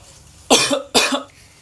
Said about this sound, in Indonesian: itu tadi teman-teman contoh batuk yang salah